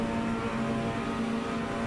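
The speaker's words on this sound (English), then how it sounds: "Building up the revs, getting the turbo boost" Seat Cupra TCR engine in Assetto Corsa held at steady high revs on the starting grid, a constant loud drone with a sustained tone and no speech.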